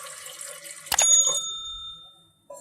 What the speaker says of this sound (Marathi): आता त्याच्यामध्ये मी पाणी टाकून घेणार आहे.